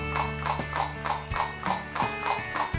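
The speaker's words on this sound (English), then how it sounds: "let's water my horse" Hooves clip-clop steadily at a walking pace in the farming game Rune Factory Frontier, a regular series of light taps over looping background music.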